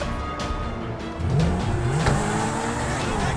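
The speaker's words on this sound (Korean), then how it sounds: "자동차를 훔쳐보도록 하겠습니다" A stolen car in GTA 5, heard from first person: a steady engine drone that swells as the car accelerates, with some tire noise, loud and continuous, with faint talk underneath.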